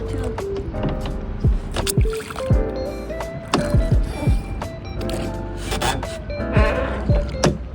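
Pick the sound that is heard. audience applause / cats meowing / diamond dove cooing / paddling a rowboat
paddling a rowboat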